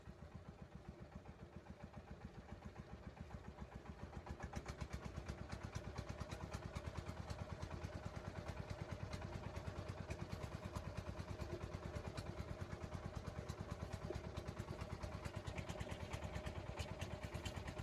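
A trawler boat's engine chugs on the Padma river in a steady, rapid mechanical pulse, loud and close throughout with a clattering knock and no break in the rhythm.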